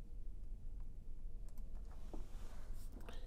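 Keys tap on a computer keyboard as a login name is entered in OpEasy management software, a scattered run of soft, quiet clicks that grows busier toward the end.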